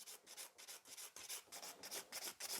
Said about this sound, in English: I would keep filing the entire surface of my nail to the credit card thickness.